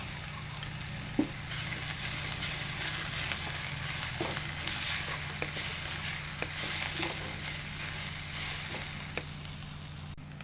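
A paste of ground coconut, cumin, turmeric and green chilli sizzles steadily in a hot pan, a continuous crackling fry with occasional soft stirring clicks, close and even.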